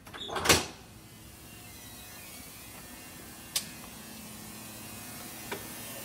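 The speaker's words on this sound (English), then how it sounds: "So you're going to badge into the room, open the door." A door opening into a hospital decontamination room after badge access: one sharp latch click near the start, then a quiet room hum with a couple of faint ticks later on.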